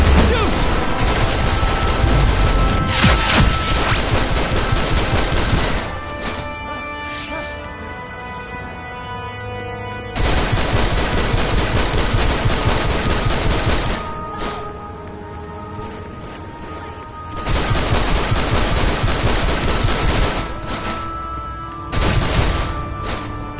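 A video game shootout plays out in long loud bursts of rapid gunfire and booms that stop and restart several times, with game voices and shouting mixed in.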